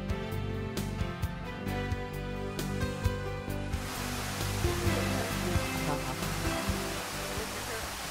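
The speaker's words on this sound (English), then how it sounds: "We descended a steep trail down to a hidden waterfall." A hidden waterfall in a forested glen in Costa Rica gives off a steady broadband rush of falling water that swells after a few seconds, with music playing underneath.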